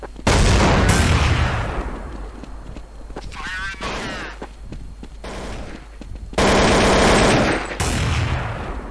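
AK rifle gunfire in the Counter-Strike video game: loud bursts of rapid automatic fire in two main volleys with quieter sounds between, close and punchy, with someone talking at moments.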